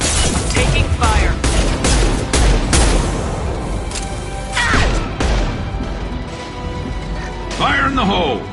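Gunfire rattles through a Mass Effect firefight, loud, close bursts of rapid shots with crashes and impacts, while voices talk over the combat.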